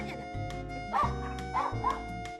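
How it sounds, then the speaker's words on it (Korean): A dog barks in a rapid, agitated run at an outside visitor, close and loud, with yips and whimper-like notes mixed into the continuous barking indoors. "외부인이 오자 짖느라 정신없는 녀석."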